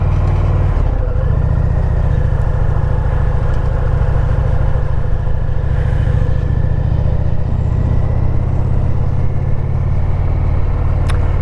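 Motorcycle engine droning steadily during a ride to work in cold late-season weather, a loud continuous low rumble with wind, no talk.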